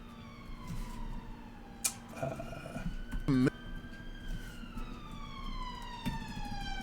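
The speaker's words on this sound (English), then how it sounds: "Sorry about the ambulance going outside." A siren wails steadily in the background, its pitch sliding down as it passes at a distance, with a few brief clatters and knocks nearby.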